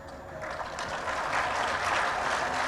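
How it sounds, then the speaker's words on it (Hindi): An audience at a pharmaceutical conference applauds steadily, a dense continuous patter of clapping that swells slightly and holds at moderate loudness. "मोंटू भाई का जब नाम आता है तो ताली बजती है।"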